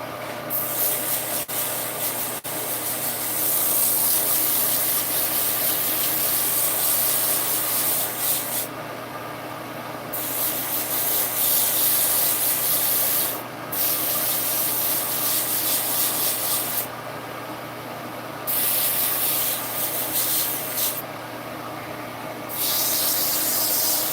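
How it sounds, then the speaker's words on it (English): Continuous rubbing hiss of sanding on a workpiece, steady and close for about 24 seconds, with several brief pauses and changes in pressure, alone without talk. "I'm gonna sand that off."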